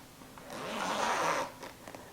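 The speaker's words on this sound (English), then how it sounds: "Unzip the zipper" A zipper on a sewn cosmetic bag is pulled open in one smooth, close rasping stroke lasting about a second, with faint handling noise around it.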